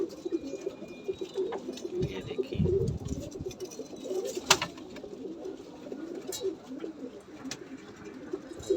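A white pigeon held in someone's hand coos in soft, repeated low murmurs, close and fairly quiet, with brief handling rustles and someone speaking a few words over it.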